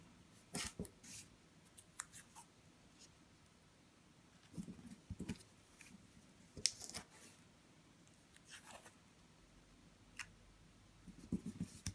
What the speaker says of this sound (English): Once I can get the masking tape going